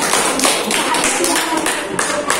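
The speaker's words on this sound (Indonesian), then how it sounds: "tepuk tangan dong buat teman-teman" Classroom applause for classmates after a group interview activity: a dense, steady patter of many hands clapping together, fairly close and sustained throughout, with faint voices mixed in.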